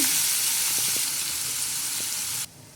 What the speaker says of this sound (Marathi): आता ह्यात एक बारीक चिरलेला कांदा टाकायचा।